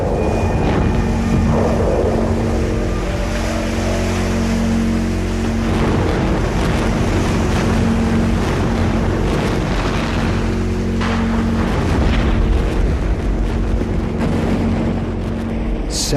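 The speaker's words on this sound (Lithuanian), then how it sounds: "Upė neša žemyn 17 milijardų kubinių metrų vandens." A massive river flood surge rushes downstream, a loud, unbroken roar of churning water with a steady low rumble beneath it that does not let up for the whole stretch.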